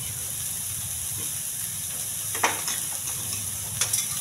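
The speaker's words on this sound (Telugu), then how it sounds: "జీలకర్ర, ఉల్లిపాయలు, కరివేపాకు, పచ్చిమిర్చి ఇవన్నీ కొంచెం త్వరగా ఎగించాలి." Onions, cumin, curry leaves and green chillies fry in a pan with a steady sizzle and hiss, broken by a few brief stirring scrapes near the end.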